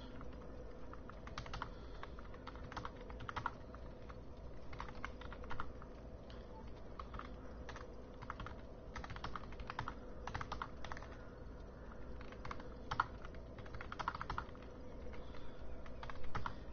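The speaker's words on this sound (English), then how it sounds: "I gotta type something real quick, so it's gonna make a like clacking noise on the keyboard" Computer keyboard typing, a fast irregular run of light clacking keystrokes that goes on steadily and quietly nearby, with no talk.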